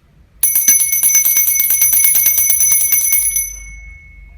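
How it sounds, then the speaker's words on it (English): A single bell for a tarot reading is struck once, ringing out loud and close with bright metallic tones, then a long shimmering decay that fades over a few seconds. "Going to ring the bell now."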